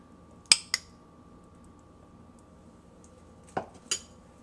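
Cold diced mangoes spooned onto sticky rice in a dish, a few sharp spoon clinks against the dish in two pairs, close and fairly quiet, separated by near silence.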